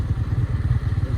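A motorcycle being turned around on a road, its close engine chugging in quick, even thumps with a light mechanical clatter over the short stretch.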